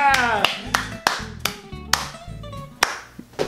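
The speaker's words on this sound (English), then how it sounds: "Still the only one clapping?" A lone person's hand claps ring out about every half second, crisp and near, over a faint tonal background with a voice present.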